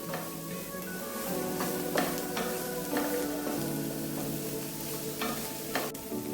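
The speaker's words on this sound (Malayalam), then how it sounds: "ഇതിലേക്ക് നമ്മൾ അരിഞ്ഞു വെച്ച 3 സവാള ചെറുതായിട്ട് അരിഞ്ഞത് ഇട്ട് കൊടുക്കാം. ഇത് നേരിയ ബ്രൗൺ നിറമാകണ വരെ നമുക്ക് വഴറ്റാം." Chopped onions sautéing in butter and oil in a pan, a steady close sizzle with repeated stirring scrapes and a few sharp utensil clicks throughout.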